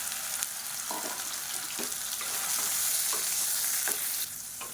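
Soaked, squeezed soya chunks fry in hot oil in a pan, a steady bright sizzle with occasional soft stirring scrapes, close and continuous.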